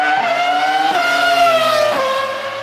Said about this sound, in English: mid 2000s era V10 Formula One cars